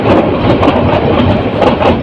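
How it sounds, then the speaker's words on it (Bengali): The Sirajganj Express, running from Dhaka toward Sirajganj, rolls past at close range near Airport railway station with a loud, steady rumble and rapid clattering of wheels over rail joints. "ঢাকা থেকে সিরাজগঞ্জ অভিমুখী সিরাজগঞ্জ এক্সপ্রেস ট্রেনটি ক্রস করে গেছে।"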